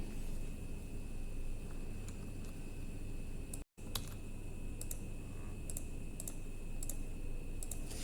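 Keys clatter on a computer keyboard as a user ID and password are typed into a government login page, a steady run of close, crisp clicks broken by one brief silent gap.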